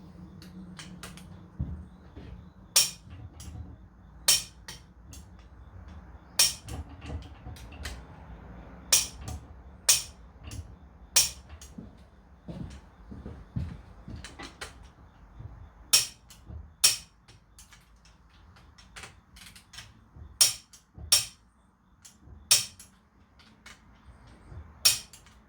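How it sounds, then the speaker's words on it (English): Hemi 392 cylinder head bolts being torqued with a torque wrench, giving sharp, evenly spaced metallic clicks close by over a low background hum, repeating steadily throughout. "I'll torque these one more time and mark them."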